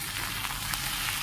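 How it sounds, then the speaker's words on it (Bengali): Potatoes fry in a pan with salt and turmeric, giving a short, steady, close sizzle with no voices. "এবার এটাকে নেড়ে চেড়ে উল্টে পাল্টে ভেজে নেব।"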